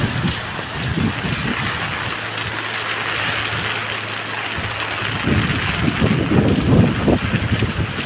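Heavy typhoon rain pours down in Cavite with gusting wind, a dense steady hiss and roar that swells near the end, with wind buffeting the microphone.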